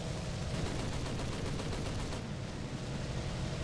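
Dense, rapid gunfire rattles without a break in the War Thunder combat video game, a loud continuous barrage that fills the whole moment.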